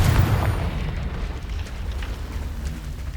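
A Confringo blasting spell explodes in Hogwarts Legacy on PS5 with a heavy, booming burst at the start, then a rumbling roar that slowly fades without clearing, loud and close.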